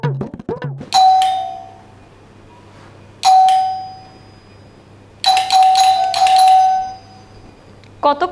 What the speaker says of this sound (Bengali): কতক্ষণ ধরে কলিং বেল বাজতেছে, ওর কোনো খবরই নেই